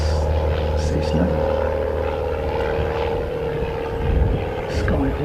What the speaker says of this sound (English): he's going to do a takeoff. A touch and go. This is Cessna